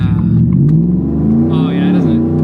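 A 700+ horsepower Ford F-150 pickup truck accelerating hard from inside the cab, a deep, loud rumbling engine note rising in pitch, with people talking over it.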